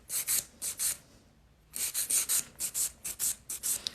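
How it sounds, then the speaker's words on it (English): A hand file rasps across a hard gel nail in quick rhythmic back-and-forth strokes, close and crisp, pausing briefly before resuming in a steady run. "So as you can see, when I'm filing,"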